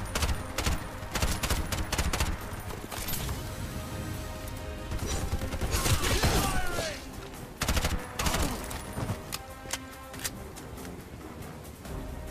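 Dense gunfire from the video game Bright Memory: Infinite, with rapid bursts and crashing impacts layered under game music and effects, loud and nearly continuous with a heavier flurry midway.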